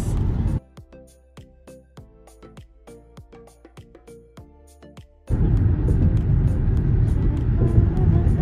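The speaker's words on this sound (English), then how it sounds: "Are you guys seeing this highway drive?" A car cruising along a highway on O'ahu, Hawaii. Plucked musical notes ring over near silence, then a loud, steady road rumble and wind roar cut in and hold to the end.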